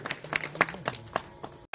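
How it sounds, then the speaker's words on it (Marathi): Crowd clapping at a palkhi procession ceremony honouring varkari pilgrims: scattered, fairly regular sharp claps, a few each second, moderately close, then a brief drop near the end. "सर्वांनी टाळ्या वाजवून स्वागत करायचे"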